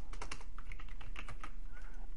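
Rapid, steady clicking of keys on a computer keyboard, close and continuous, with no talking.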